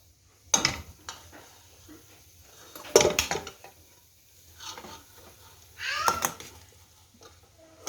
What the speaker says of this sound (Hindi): अब ये वेजिटेबल और राइस को हम मिक्स कर देंगे अच्छे से